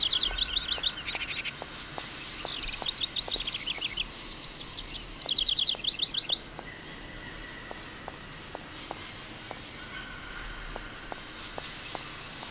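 Birds chirp in the Syberia video game, bursts of rapid tweeting trills in two clusters over a quiet ambient background with soft regular ticking.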